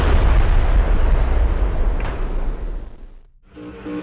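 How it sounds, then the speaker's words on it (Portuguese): A nuclear reactor explosion effect: a loud, close roaring blast with heavy low rumble that slowly dies away, then cuts to near silence before a faint tone returns. "O resultado foi uma explosão que expôs o núcleo do reator e derrubou parte do prédio."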